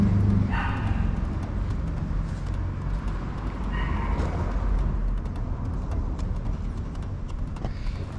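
A couple of brief dog barks ring out a few seconds apart, somewhat distant, over constant outdoor traffic rumble.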